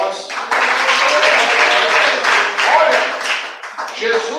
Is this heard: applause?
yes